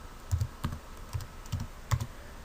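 Keystrokes on a computer keyboard while entering values in CAD software, about six distinct taps spaced irregularly, close and fairly quiet with no talking.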